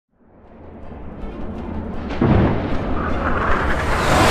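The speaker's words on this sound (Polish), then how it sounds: "Eko burza przybiera na sile." A rumbling eco storm in a Jak & Daxter: The Lost Frontier cutscene rises from silence into a loud, sustained roar, with a deep thunderous boom midway and a hissing wash building toward the end.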